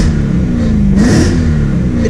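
A BMW M3 E92 engine idles with its exhaust valves closed, a steady low rumble that swells briefly in the middle before settling again, heard close and alone.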